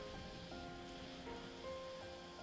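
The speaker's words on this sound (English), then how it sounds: "It's raining." Rain falling in the video game Xenoblade Chronicles 3, a soft, faint patter spread under steady sustained musical tones that shift pitch.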